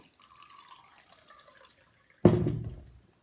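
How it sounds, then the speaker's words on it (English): Water pours into a mixing bowl of flour and salt for playdough. After quiet background sound, there is a sudden, close splash and gurgle lasting under a second that fades out. "We need to pour 1/2 cup of water."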